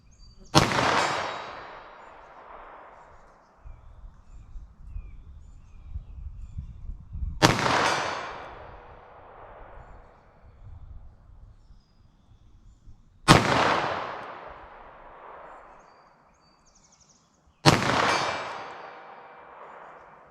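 Four loud .380 ACP pistol shots using Underwood Xtreme Defender +P ammunition, each a sharp crack with a ringing decay, spaced several seconds apart outdoors.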